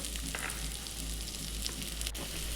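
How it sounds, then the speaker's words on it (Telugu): Thinly sliced onion sizzles steadily in hot oil, a continuous close crackle with occasional brief pops and a light stirring scrape. "అదే ఆయిల్లో మనం సన్నగా కోసుకున్న ఆనియన్ వేసుకోవాలి"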